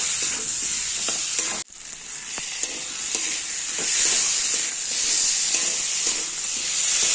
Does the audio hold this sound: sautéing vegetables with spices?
yes